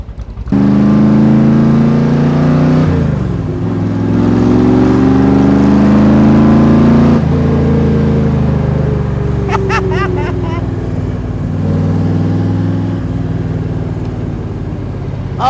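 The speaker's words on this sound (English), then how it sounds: "Oh, these cars accelerate so well." A 1965 Factory Five MkIII Shelby Cobra accelerates hard through several gears, its loud, close engine note climbing and dropping at each shift, followed by a steady roar.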